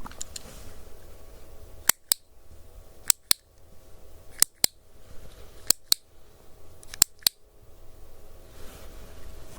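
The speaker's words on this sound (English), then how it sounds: "tell me how many clicks you hear" Sharp isolated clicks for an ASMR hearing test, arriving in quick pairs and short clusters separated by pauses over a quiet hiss, crisp and close.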